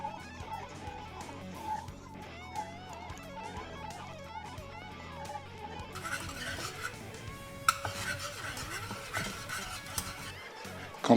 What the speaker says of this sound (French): on va monter à ébullition en remuant constamment